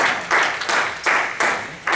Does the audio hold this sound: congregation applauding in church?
yes